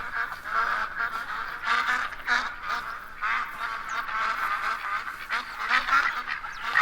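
Ducks and geese honk and quack in a close, loud flock in a Layton Lakes wetland hunting game, overlapping calls rising and falling continuously with no talk.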